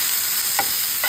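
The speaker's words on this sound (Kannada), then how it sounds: "ಇದೆಲ್ಲ ಚಲೋ ಫ್ರೈ ಮಾಡ್ಕೋಬೇಕು ಎಣ್ಣೆಗೆ. ಉಳ್ಳಾಗಡ್ಡಿ ಮತ್ತು ಟಮಾಟ." Onion and tomato frying in oil make a constant close sizzle, with two brief stirring scrapes about half a second apart.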